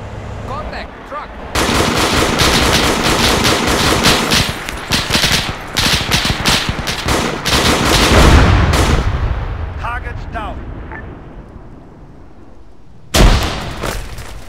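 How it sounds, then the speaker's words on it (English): Gunfire and artillery in an ARMA 3 battle with IFA3 World War II weapons: loud bursts of machine-gun and rifle fire with heavy booms, fading into quieter scattered shots, then a sudden final blast, with faint voices in the mix. "taking enemy fire!"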